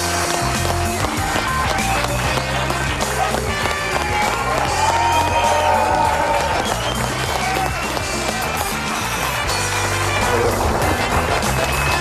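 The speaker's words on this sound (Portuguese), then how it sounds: "O nosso enorme aplauso de pé para o Dr. Miguel Prudêncio" A studio audience gives a standing ovation for a guest on a late-night talk show, with dense, loud, continuous clapping and crowd noise that holds steady throughout and sits under music.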